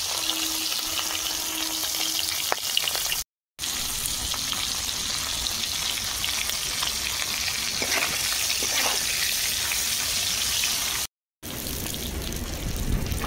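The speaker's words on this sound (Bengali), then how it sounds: "তেল গরম হয়ে গেছে, মাছ দিয়ে দেবো। চিংড়ি মাছও দিয়ে দিচ্ছি।" Fish and prawns frying in hot oil, with loud continuous crackling and sizzling interrupted by a couple of brief cuts, plus occasional stirring scrapes, no talking.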